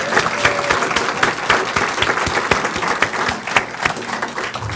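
Applause at a monthly astronomy society meeting, a modest room of people clapping with distinct individual claps audible, steady and fairly close for several seconds.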